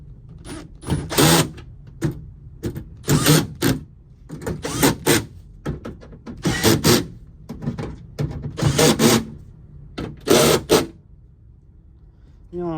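Power tool running in a series of short bursts to drive bolts back onto a Toyota Camry during repairs, about eight loud near whirring pulses separated by brief pauses.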